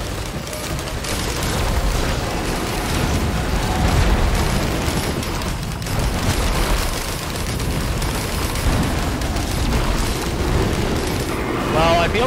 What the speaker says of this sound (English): Everything is exploding.